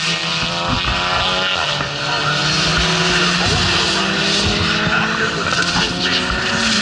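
A Noble race car powers up a hillclimb course at a tuner festival, its engine roaring loudly and steadily with tire squeal and a dense crowd-and-wind wash throughout, no pauses in the noise.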